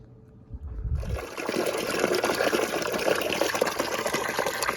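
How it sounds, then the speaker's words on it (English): Water draining from an above-ground pool pump into an old bucket, a steady close gushing and splashing stream that starts abruptly after a short handling noise and continues unbroken. "I am going to put that bucket underneath this and I'm going to drain it."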